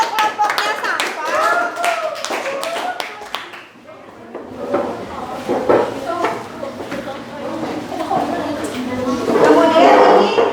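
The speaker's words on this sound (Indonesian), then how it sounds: "Tepuk tangan untuk kelompoknya Safa." A classroom gives applause for a student group after their presentation, a crisp burst of many hands clapping up close that thins out, then picks up again amid children's chatter and voices.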